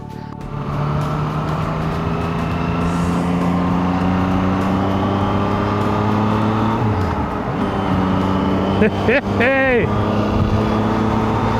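A motorcycle with a CP3 three-cylinder engine drones steadily while being ridden, its pitch dropping as it shifts down, then a brief flurry of revs near the end under wind rush, with a short shout from the rider.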